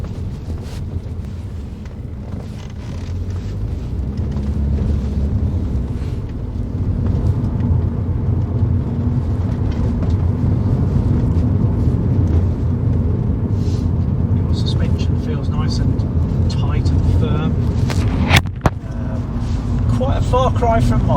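Rover 45 CVT hatchback driving along, a steady low engine and road rumble with wind noise throughout, while people talk over it inside the cabin.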